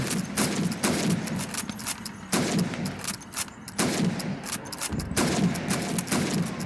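Rifle shots at helmets on a Call of Duty 2 training range: four sharp, loud reports spaced a second or two apart, each trailing a brief echo over a low, busy game background.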